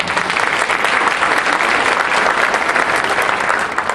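A conference audience breaks into loud, continuous applause, thick overlapping clapping that holds steady throughout with no voices over it.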